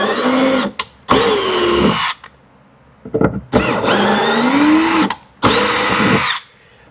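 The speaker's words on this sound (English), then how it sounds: "They're threaded, but they got paint in them also. So I'm just chasing the threads." A power tool driving an M6 tap to chase paint-filled threaded holes on a 2018 Ford F-150, loud whining bursts that rise and fall in pitch, separated by short pauses.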